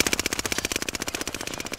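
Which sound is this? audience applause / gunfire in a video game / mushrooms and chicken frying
gunfire in a video game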